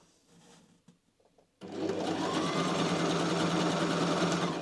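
A home sewing machine starts up after a few quiet handling clicks and then stitches continuously with a steady close whirring hum while sewing a vintage-style halter-neck wiggle dress.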